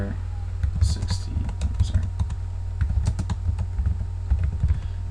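Irregular keystrokes on a computer keyboard while a fire-plan view filter is named in drafting software. Soft clicking runs through several seconds over a low steady hum, with some speech-like sound mixed in.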